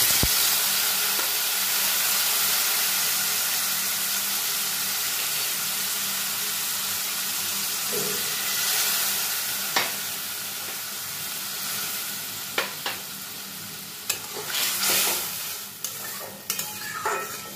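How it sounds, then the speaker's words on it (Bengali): Taro and potatoes with spices stirred in a hot pan, a steady loud sizzle and hiss of frying throughout, with scraping spoon strokes and clicks growing more frequent toward the end, no voices. "মশলাটা দিয়েও কচু আলুর সঙ্গে আমি একটু নাড়াচাড়া করে নিলাম"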